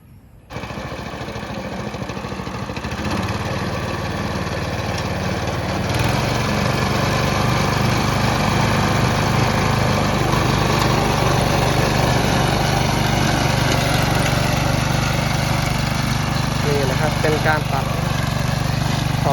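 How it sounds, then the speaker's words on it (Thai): A small multipurpose walk-behind tractor with steel wheels and a grass mower head, a three-forward-gear model, runs with a loud, continuous engine drone that starts abruptly and grows slightly fuller partway through. "รถตัดหญ้ารุ่นนี้นะครับ ก็ ข้อแนะนำนะครับ ก็คือตัวนี้มันเป็นล้อเหล็กนะครับ"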